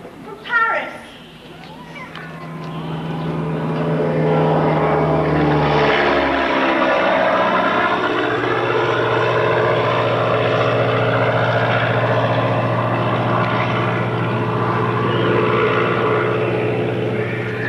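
Engines of Japanese warplanes attacking Pearl Harbor in December 1941, a continuous loud propeller drone that swells in after a brief opening thump and holds steady, with no speech.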